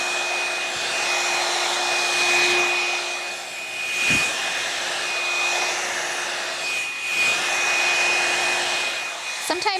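Hair dryer blow-drying hair set in velcro rollers, a steady close whirring blow with a constant tone, slight swells as it moves around the head.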